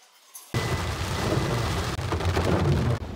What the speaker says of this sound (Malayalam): നിറയെ നല്ല മഴയാണ് ഇവിടെ